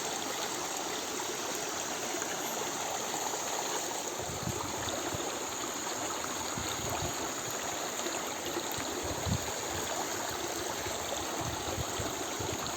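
A low river stream in a remote village flows steadily with a broad, constant rush of water, close and continuous, with no voices.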